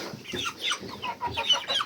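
Several chickens eating cheese cluck softly nearby, a busy overlapping chatter of short murmuring clucks and small squawks.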